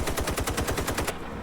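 Automatic gunfire in the PC shooter IGI 2, a rapid burst of about a dozen loud, close shots in an even rhythm that stops abruptly.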